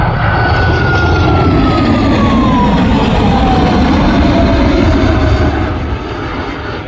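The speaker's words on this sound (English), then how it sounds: "United Boeing 777 at the world's largest aviation event in one breathtaking moment." A United Airlines Boeing 777 roars low over the Oshkosh EAA AirVenture airshow, a loud, steady jet engine rumble with a falling whine as it passes and begins to fade at the end.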